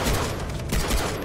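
Rapid gunfire in the Far Cry 3 video game, a dense burst of loud overlapping shots filling a brief moment, with no talk.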